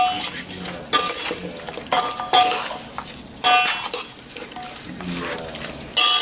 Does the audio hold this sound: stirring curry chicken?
yes